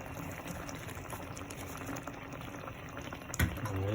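Vegetable stew bubbling at a steady, vigorous boil in a pot, a continuous close hiss of bubbles with one brief clatter near the end and no voices.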